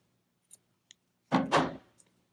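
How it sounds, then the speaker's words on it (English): A couple of faint clicks, then two quick close snips of scissors cutting through loose embroidery thread near a knot. "Now we're going to trim some of these loose threads away from the knot."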